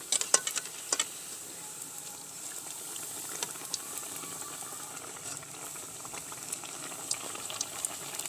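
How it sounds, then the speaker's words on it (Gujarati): Bread pakoras deep-frying in hot oil give a steady, fairly faint sizzling hiss throughout, with a few sharp clicks and spatters near the start. "તો હવે આપણે આ પકોડા તળી લઈશું."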